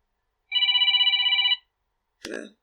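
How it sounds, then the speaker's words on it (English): A phone alarm rings out in one short burst of rapid trilling tones, followed by a brief pause and a quick rustle nearby. "that's my alarm."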